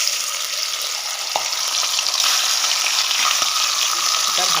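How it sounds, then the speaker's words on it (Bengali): Rohu fish heads frying in hot oil, giving a steady, close sizzle and crackle that runs the whole time, with a few brief clicks from the pan. "এ দেখুন বন্ধুরা তেলটা গরম হয়ে গেছে এবার মাছের মাথাগুলো ভেজে নেব"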